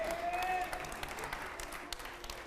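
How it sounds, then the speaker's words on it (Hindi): Studio audience at a Hindi quiz-style show about actors Naseeruddin Shah and Anupam Kher breaks into applause, a steady wash of clapping at moderate level that thins slightly toward the end, with a faint tone early on. "चलिए जोरदार तालियां हो जाए"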